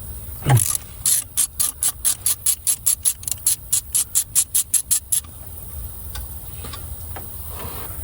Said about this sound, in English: I think what I'm gonna do is try to take this pulley off.